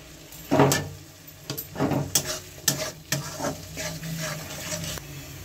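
Tomato and a pinch of sugar hit hot oil and are stirred in a pan for rohu fish kalia, giving steady sizzling broken by several sharp scraping strokes of the spoon against the pan.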